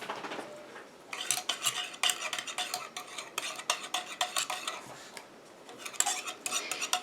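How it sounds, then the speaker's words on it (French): A spoon stirring urea crystals into water in a container while making an olive foot cream, giving quick repeated clinks and scrapes against the sides in an irregular rhythm, close and clear with no talking. "Et je mélange jusqu'à ce que mon urée fonde complètement dans mon eau."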